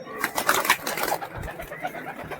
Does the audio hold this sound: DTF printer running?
no